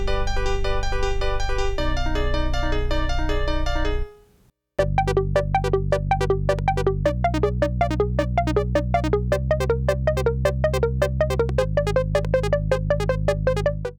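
Modular synthesizer patch with four voices locked in polyrhythm, duplets against triplets: steady loud sustained bass and dense repeating plucked tones, a brief near-silent gap around four seconds, then the interlocking pattern resumes and runs to the end.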